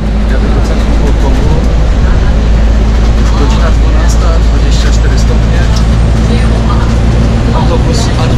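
City bus A21 heading to central Hong Kong, a steady loud engine drone with continuous low rumble and broadband road and traffic noise, with voices talking over it throughout.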